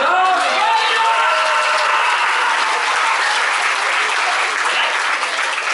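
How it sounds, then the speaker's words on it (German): Audience applause and cheering at a Star Wars show in Legoland, greeting a performer in a Darth Vader helmet; dense, sustained clapping from a sizable crowd that holds steady throughout with scattered voices mixed in. "Applaus für Darth"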